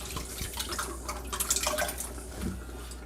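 Water trickling and dripping while lettuce is washed in a salad spinner basket at a kitchen sink, with light irregular splashes and drips at close range and no talking.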